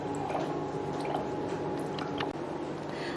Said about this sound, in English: you can see the water is coming out now